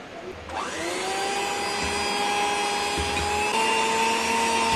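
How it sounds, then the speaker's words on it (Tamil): A blender starts up and runs with a steady, high-pitched whine while mixing a whipped cream base for orange ice cream, and its motor pitch settles after a quick rise at the start. "மறுபடியும் நம்ம இதை ஒரு பிளண்ட் பண்ணணும்."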